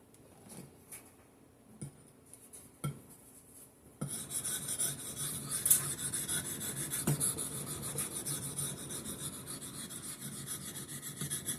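A Norton JUM3 Crystalon stone with mineral oil rubbing along a Husqvarna hatchet, close and quiet: a few isolated scrapes, then a continuous gritty rasping stroke after stroke.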